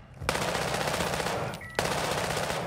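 Sustained automatic machine gun fire in the video game Call of Duty Modern Warfare II, two loud continuous bursts separated by a brief pause.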